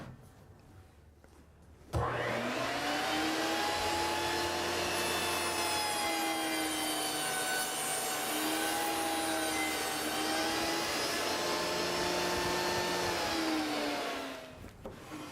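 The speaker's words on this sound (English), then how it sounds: "I'm just going to make a pass and cut that off, and we've essentially used the table saw as a joiner" A table saw rips along the edge of a pine board, the blade whining loudly and steadily for about twelve seconds after starting up, then winding down.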